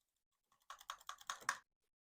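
Keys on a new Redragon computer keyboard clack in a short burst of about five or six crisp strokes, close and fairly quiet, with no voices.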